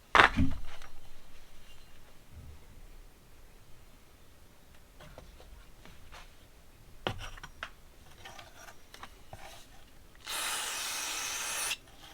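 Carb cleaner is sprayed onto a 1982 Honda CB650 carburetor: a steady aerosol hiss runs for about a second and a half near the end, after a short burst at the start and scattered small clicks and handling noises.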